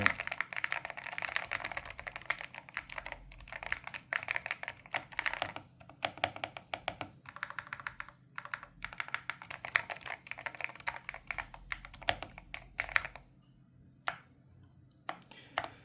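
Typing on an MSI Forge GK600 TKL wireless keyboard: steady, close, crisp key clicks in quick irregular bursts with short pauses, alone in a quiet room.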